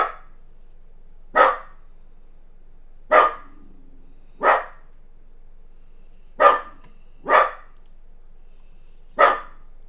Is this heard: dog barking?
yes